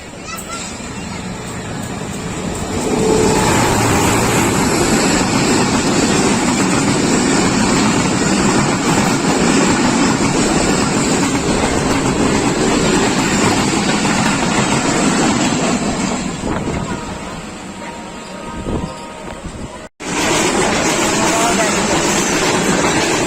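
A Pakistan Railways train, the Hazara Express or Islamabad Express, passes at Sarai Alamgir as a steady, loud rolling rumble that holds for most of the stretch, then briefly eases and cuts out before resuming.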